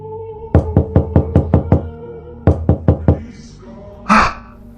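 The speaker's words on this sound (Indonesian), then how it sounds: "ada yang ngetuk pintu kamar nih" Knocking on a bedroom door at night: two loud, close bursts of rapid raps, about six then four, with a short rustle and a brief faint sound at the end.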